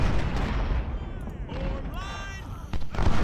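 Booming cannon shots thud amid a noisy battle soundscape in the video game Ultimate General: Civil War, with whistling projectiles arcing overhead and another loud blast near the end.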